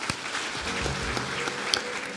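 A church congregation claps together in a dense, continuous burst of applause, moderately loud and filling the room with no speech over it.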